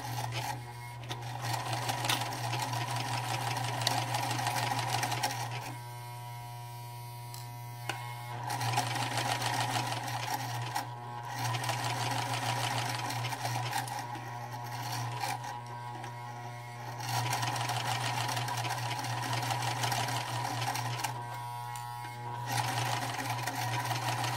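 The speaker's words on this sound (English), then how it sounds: "And then as I sew, I'll pull those pins out." A sewing machine stitches a fabric face mask, heard as a loud steady mechanical hum and rapid needle clatter that runs almost continuously, broken by brief pauses.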